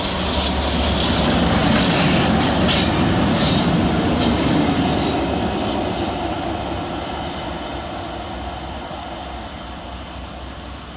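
Locomotive 67021 passes through Perry Barr railway station hauling two other locomotives, a loud rumble of wheels with clicking rail joints and faint squeals, starting near and slowly receding.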